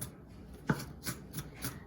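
Knife chopping onion into very fine pieces on a board, a handful of soft, quiet cuts spaced roughly evenly over a couple of seconds, close and fairly faint.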